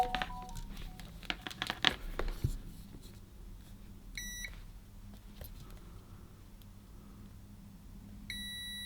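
Multimeter continuity beeps on a circuit board, short electronic tones sounding in brief bursts after some handling and scraping noises, quiet and close.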